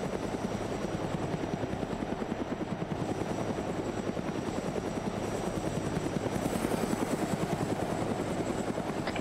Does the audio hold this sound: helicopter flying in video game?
yes